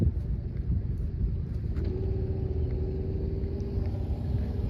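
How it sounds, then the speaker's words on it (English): A New Holland T7 260 tractor, a 260-horsepower diesel, idles nearby at a plowing match with a deep, steady rumble and a faint whining tone running underneath. "Here's a big New Holland tractor here."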